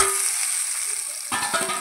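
Okra dropped into a hot pan crackles into a bright, steady hiss of frying, with a burst of louder spattering and clatter near the end.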